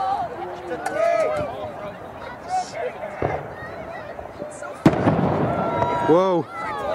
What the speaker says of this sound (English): There's some fireworks going on right behind us